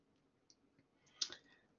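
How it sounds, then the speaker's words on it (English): A computer mouse clicks once on a web page option while setting up a BLAST bioinformatics search, a single crisp near tick with a faint softer click just before, in an otherwise quiet room. "we're going to click on more options"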